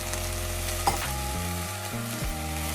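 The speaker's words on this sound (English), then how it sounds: "I'm adding the chopped carrots and sweet potatoes into my Dutch oven now." Chopped carrots and sweet potatoes frying in a Dutch oven, a steady close sizzle with a brief stirring clink, no voices.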